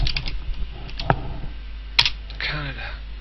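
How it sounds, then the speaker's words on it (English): A few quick keystrokes tapped on a computer keyboard, light close clicks scattered over a couple of seconds, with a voice briefly heard near the end. "I'm going to just type in Alberta"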